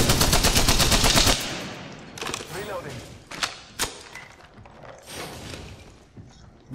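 Rapid automatic gunfire in the battle royale game Apex Legends, a loud burst of fast repeated shots followed by scattered single shots and mechanical clicks.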